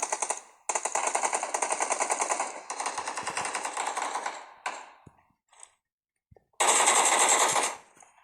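Rapid automatic gunfire rattles in a firefight in the PUBG Mobile game, several long bursts of fast shots with short pauses and a final loud burst, no talk over it.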